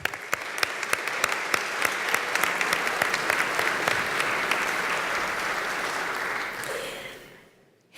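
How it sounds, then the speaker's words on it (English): Audience applause at a state legislator's farewell speech in the Capitol, a steady dense wash of clapping with a few sharper claps standing out, sustained for about seven seconds before fading out. "That was her fan club starting the applause."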